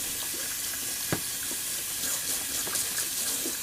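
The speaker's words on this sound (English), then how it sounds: "Just gonna rinse out the DsCosmetic brush real quick." A synthetic 24mm flat-top shaving brush rinsed under a running tap, a steady close hiss of flowing water with faint splashy ticks, no voices.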